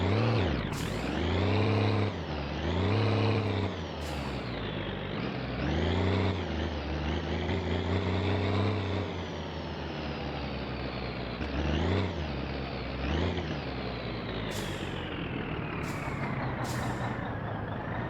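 A septic pump truck in My Winter Car drives and reverses, its heavy diesel engine revving and dropping in repeated swells. Near the end a few sharp hisses like air brakes cut in.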